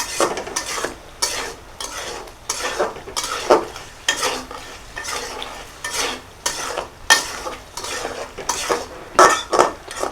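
Potatoes being sautéed in a pan for a Bangladeshi fish and soybean bora dish, with repeated scraping and stirring strokes at a steady, uneven rhythm, close and fairly loud, no voices.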